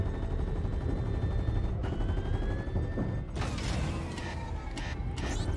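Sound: ship guns firing and overheating in the video game Fortnite

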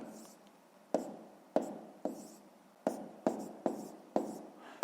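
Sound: writing a math solution by hand

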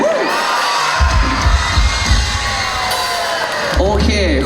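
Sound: crowd cheering and shouting

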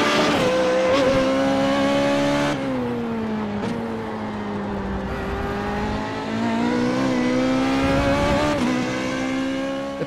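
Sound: race car engine sound in iRacing video game

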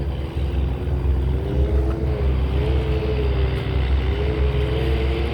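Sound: tugboats towing a cargo ship

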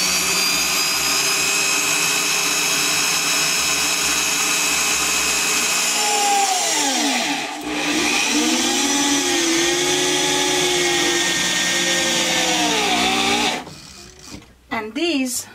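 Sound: screwing countersinking screws into a DIY bookcase

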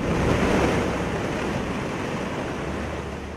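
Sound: surging waves of the flooding Bagmati river

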